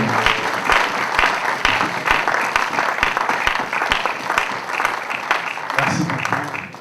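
A church congregation claps steadily in praise, dense applause with sharp rhythmic beats pulsing through it, loud and continuous with voices mixed in near the end.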